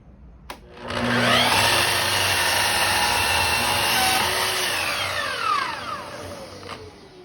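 A power saw cuts a straight 12-inch wall piece, with a sharp click and then a loud, steady, high whine as the blade bites through the material for several seconds before tapering off, close and alone.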